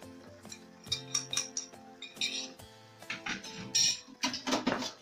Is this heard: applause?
no